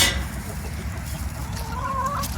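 Chickens on a farm clucking softly in a barn, with a faint higher call near the end over a low background hum, no speech.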